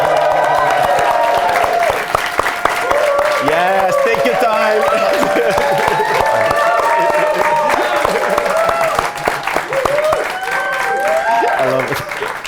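Studio audience applauding and cheering a podcast guest on a Pride special, a steady loud wash of clapping that carries through the whole stretch while people talk and laugh over it.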